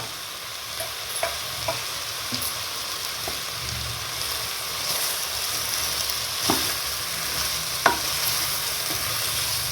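Washed, drained rice is stirred into a pot for pressure cooker biryani, giving a steady soft sizzling hiss with a few faint scraping clicks of the spoon, close and without speech.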